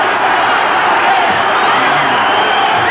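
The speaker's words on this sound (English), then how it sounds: "this crowd is on its feet. It is going berserk." A boxing crowd on its feet roaring during a heavyweight bout between Scott LeDoux and Ken Norton, a loud, dense wall of cheering and shouts that holds steady without a break.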